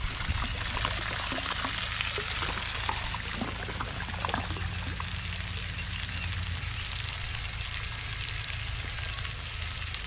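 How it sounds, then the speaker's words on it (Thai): Water is poured into a newly drilled borehole well before a submersible pump is installed, a continuous splashing trickle over a low steady hum, with scattered crackling spatters throughout. "พอหย่อนเสร็จเราก็เทน้ำเลย"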